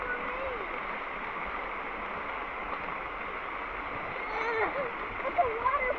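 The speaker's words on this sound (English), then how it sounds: "It's a waterfall." Steady rushing water from a forest waterfall fills the whole stretch, with faint voices and light rustling near the end.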